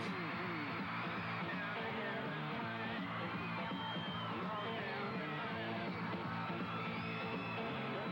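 A dense crowd yells and whoops without pause as the Von Erich brothers are mobbed at a wrestling event, a constant loud roar of many voices filling the space.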